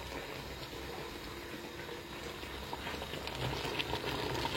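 Water poured into a couscous pot over meat and a cinnamon stick, a steady rushing, gurgling flow of liquid that continues evenly throughout at close range, with no talking.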